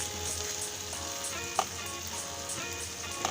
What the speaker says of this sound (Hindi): अब मैं एक साइड पे नूडल्स को भी फ्राई कर ली।